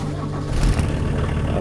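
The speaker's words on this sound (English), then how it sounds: "I like the noise of the engine." A 1992 Volkswagen LT35 van's 2.4-liter six-cylinder engine runs with a steady mid-low hum that swells briefly as if revved, close and fairly loud, no voices over it.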